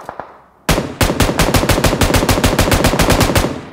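Automatic weapon fire in PUBG: after a couple of faint early pops, a loud, rapid sustained burst of regular shots runs continuously for about three seconds, close and alone without talk.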